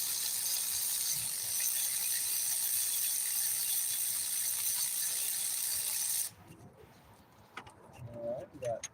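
A wrench ratchets in a long, steady run of fast clicks while loosening a bolt during a timing belt replacement on a 2005 Hyundai Sonata 2.4L, then stops, leaving quieter clinks and a pigeon cooing nearby.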